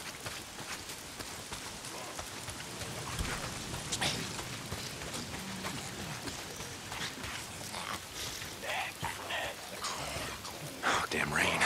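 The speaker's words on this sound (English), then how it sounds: "If it's not the freaks, it's the goddamn rain. Why is it always raining?" Steady rain hisses across the whole stretch in Days Gone, a continuous wet wash with scattered sharper spatters and bumps, moderately loud and constant.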